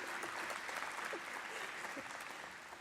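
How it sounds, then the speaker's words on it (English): Steady audience applause fills the room, a dense patter of many hands clapping throughout, tapering slightly at the end. "You can clap, that's fine."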